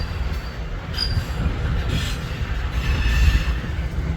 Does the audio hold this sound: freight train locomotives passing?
yes